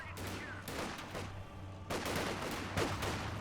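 Rifle fire from three Volksgrenadier infantry in Company of Heroes 2, a steady run of overlapping shots with denser crackling bursts near the end, under battle noise and a low hum.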